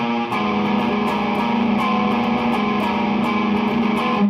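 Electric guitar through a distortion pedal plays interval riffs, sustained buzzing tones punctuated by regular sharp picked hits, loud and steady with no talking.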